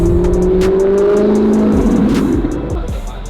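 A turbocharged car accelerates hard nearby, its engine note climbing in a loud, sustained roar that eases slightly toward the end, with faint voices underneath.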